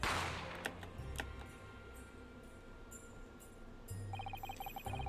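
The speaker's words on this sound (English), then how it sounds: "I didn't have time to think about where the sound of the gunshot had come from" A gunshot sound effect from the video game The Great Ace Attorney, heard as a sharp burst near the start followed by further cracks and a rumbling, clattering tail, with no speech.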